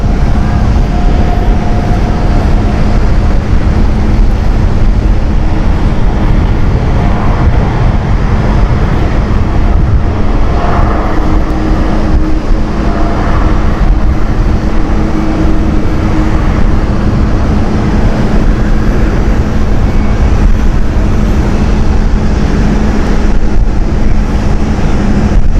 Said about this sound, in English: KLM 787 heading out.